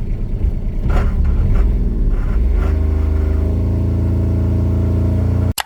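A Honda car fitted with a Kubota D722 diesel engine and a new VNT turbo launches hard, giving a loud, close engine roar that rises in pitch, then settles into a steady drone before cutting off abruptly at the end.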